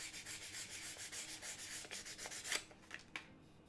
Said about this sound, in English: The more uniform it looks when you're done sanding, the smoother your surface is.